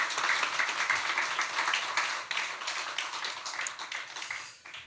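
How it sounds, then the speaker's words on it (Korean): Congregation applauding during a Sunday church service, a sustained wash of many hands clapping that holds steady and then slowly fades toward the end, fairly faint and with no speech over it. "다시 한번 경례 박수하겠습니다."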